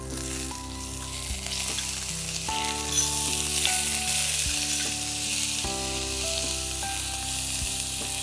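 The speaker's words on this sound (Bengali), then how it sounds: "তেলটা তো গরম হয়ে গেছে, এবারে দেবো চিংড়ি মাছটা দিয়ে দেব" Around 200 grams of prawns sizzle and spit in hot oil for a spinach-and-prawn dish from the Kaziranga region of Assam, a steady close crackle with occasional stirring clatters and background music.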